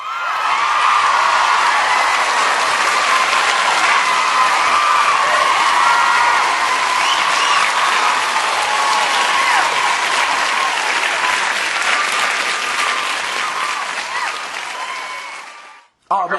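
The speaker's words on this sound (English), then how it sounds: "We'll give her a little applause real quick" A talk show studio audience gives steady, full applause with some cheering and whoops, sustained for several seconds before fading and cutting off.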